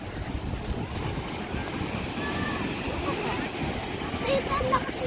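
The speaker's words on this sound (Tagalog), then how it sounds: "Ay, ang lakas ng ilog ah." Strong river water rushes in a continuous loud roar with wind buffeting the microphone, and people talk faintly over it.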